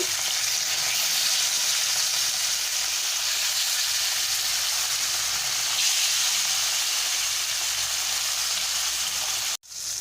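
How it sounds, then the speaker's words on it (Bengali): Pieces of pona fish sizzle steadily in hot oil with turmeric in a wok, a loud continuous frying hiss with no talking, cut by a brief drop near the end. "এবারে একে একে মাছগুলো আমি দিয়ে দেব"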